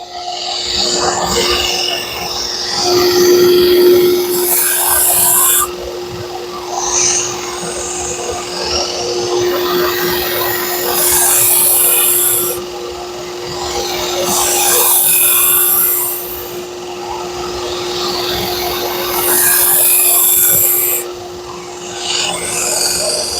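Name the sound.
grinding a Hatsukokuro Kurogane bunka knife blade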